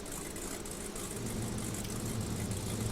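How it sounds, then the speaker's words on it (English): A rock crawler truck idles in the SnowRunner video game on the Sequatchie Trails map, a low, steady, rumbling engine hum that runs on quietly and evenly throughout. "Even when it's idling, it sounds mean."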